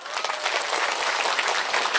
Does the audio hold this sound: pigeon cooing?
no